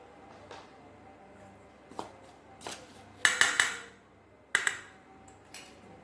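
A spoon stirs peanut pakoda batter with lemon juice in a bowl, giving a few scattered, sharp metallic clinks and taps against the bowl, quiet and close, with no talk.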